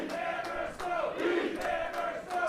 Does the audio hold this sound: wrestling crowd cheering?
yes